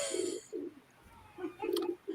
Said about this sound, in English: I'm going to let the pigeon answer you, Gary.